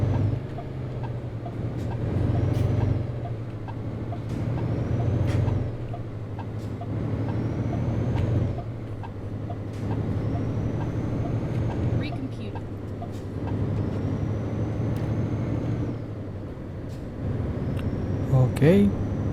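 Truck in Euro Truck Simulator 2 pulling away slowly, a steady low diesel engine drone with gear and air noises rising gradually, while someone talks over it.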